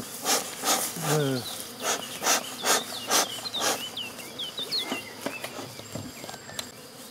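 A dense, steady buzz of a honeybee swarm of about 30,000 bees hums throughout, with scattered bird chirps and a few rustling knocks nearby.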